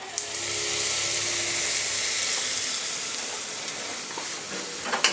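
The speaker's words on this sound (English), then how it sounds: "now we got that cooking in some oil" Shallots and ginger sautéing in olive oil, a loud, continuous close-up sizzle hissing steadily throughout, with a couple of faint utensil clicks near the end and no speech.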